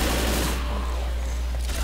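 Dense, loud gunfire from a shotgun and other weapons in the Left 4 Dead video game, with rapid overlapping blasts in the first second that ease into a steady, noisy wash of battle sound.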